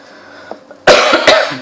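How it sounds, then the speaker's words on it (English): Two or three harsh, close coughs in quick succession, preceded by a faint throat sound. "Sorry, I'm having a cough."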